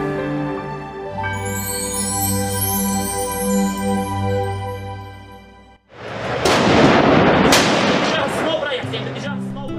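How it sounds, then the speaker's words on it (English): Sustained music gives way to a loud burst of rumbling blasts and crackling shots, heavy and booming, as if gunfire or artillery nearby. "At the sound of gunfire, everyone looks fearful and apprehensive."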